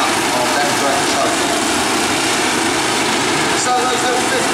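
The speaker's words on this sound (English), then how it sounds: "those little 50cc Honda Cadet engines are carrying the mini sprints around" Mini sprint race cars powered by little 50cc Honda Cadet engines buzz loudly and continuously around an oval track at Arena Essex during a heat race, a constant high-pitched droning blend of several engines.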